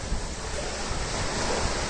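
Sea water surges in through coastal rocks at Brahmangad on the Konkan coast, a steady, loud wash of surf and wind rushing without pause.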